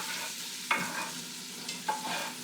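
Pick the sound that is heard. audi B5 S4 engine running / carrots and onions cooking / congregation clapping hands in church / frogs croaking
carrots and onions cooking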